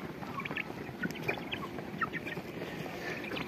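Chickens and chicks feeding together in a village yard, with scattered soft clucks and chirps over a steady outdoor background hum, no talking.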